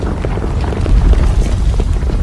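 A deep earthquake rumble from the Disaster Island video game builds into a brief low boom, heavy and continuous for a couple of seconds without speech.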